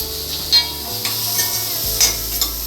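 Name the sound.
onions and cashews frying in cream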